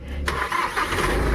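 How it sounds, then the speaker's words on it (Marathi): A car engine cranks and catches, then settles into a loud, close, rough idle for the rest of the moment. "अरे गाडी चालू करा"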